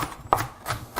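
A knife chopping onion on a slightly wobbly oiled wooden cutting board, a few quick close thuds spaced irregularly.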